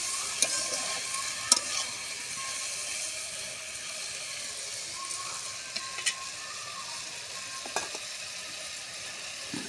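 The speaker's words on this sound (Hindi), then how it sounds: "सब्जियों के साथ दाल को भी मिक्स कर लेंगे" Dal mixed with chopped vegetables being stirred in a hot pan, soft continuous sizzle with a few faint scraping clicks from the spoon, quiet and close with no talking.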